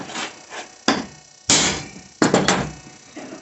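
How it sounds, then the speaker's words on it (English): Hammer blows struck on steel suspension mount parts to mark hole centres on a home-built car, with about four sharp metallic knocks, the last few close together, each ringing briefly before fading. "I should give these a whack with a hammer where the holes need to be"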